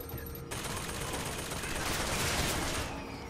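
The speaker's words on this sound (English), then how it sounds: "Who is he even shooting at right now?" Rapid gunfire in the video game BioShock Infinite, a dense, loud continuous burst of shots that fills the whole moment, with no voices over it.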